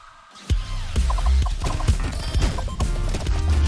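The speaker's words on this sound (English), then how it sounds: "Check out all the explosions, man." Dense bursts of explosions and sharp piercing shots sound together in the auto-chess roguelite game SNKRX, loud and continuous after a quiet start, with layered crashing impacts and short tonal blips.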